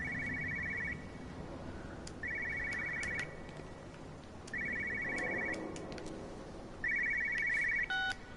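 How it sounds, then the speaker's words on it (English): An old-style telephone bell rings inside a house in the game Everybody's Gone to the Rapture, four evenly spaced bursts of rapid trilling rings over a quiet ambient background, with faint chimes between them. "Is a phone in here?"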